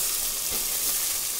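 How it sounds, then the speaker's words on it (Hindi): Chopped potatoes fry in a spiced masala with a dense, even sizzle that stays close and constant, with a faint stirring movement and no voices. "आलू दे दी और अच्छा से भून लेंगे।"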